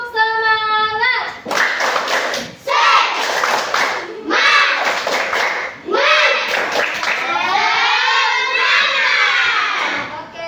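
A group performing the tepuk semangat clapping chant as an ice-breaking game, with bursts of loud rhythmic hand claps alternating with voices chanting and shouting together, near and energetic throughout.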